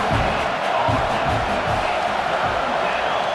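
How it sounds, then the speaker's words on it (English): American football crowd at the Washington Wolfpack versus Top Ten Knights game makes a steady, loud roar of cheering and shouting near halftime, a dense wash of voices that never lets up. "This crowd bringing the energy and noise early."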